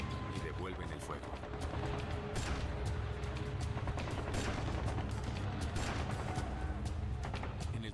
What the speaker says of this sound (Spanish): Y devuelven el fuego.